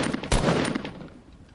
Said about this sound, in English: I'm shooting at y'all.